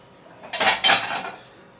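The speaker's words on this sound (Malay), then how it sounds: "Matikan api. Masuk kat pinggan." Cooked spaghetti bolognese is served onto a plate, with two close clattering clinks of dishes and cutlery followed by a lighter rattle, against a quiet room and no talking.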